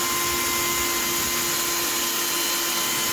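A steady, loud electric whine and whir of a power drill driving a screw in, running continuously without pause, close up.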